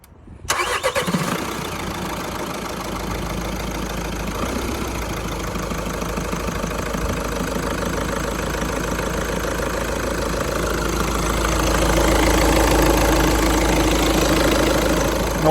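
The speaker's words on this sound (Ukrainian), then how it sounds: "Зараз нам запустять автомобіль." A 2010-2011 Seat Leon petrol car being started: a brief starter crank catches at once, then the engine settles into a steady, smooth idle heard up close, growing slightly louder toward the end.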